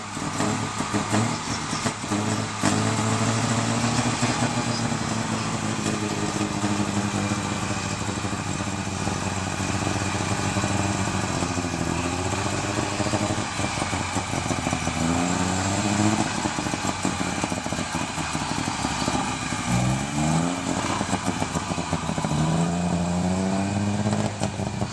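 A Saab 95 wagon with a three-cylinder two-stroke engine runs steadily nearby, a buzzing, slightly uneven putter whose pitch rises and falls a few times as the throttle is blipped, continuous for the whole stretch with no talk.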